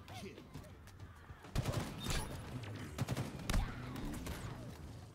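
Gunfire in Halo Infinite plays as rapid bursts of shots with several sharp volleys, mostly in the middle of the clip, over a quieter background of game noise.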